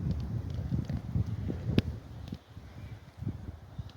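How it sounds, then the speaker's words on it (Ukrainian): Low, gusty wind buffets the microphone in uneven rumbling bursts, with faint rustling and an occasional sharp knock. "А ось, власне, починається вітер."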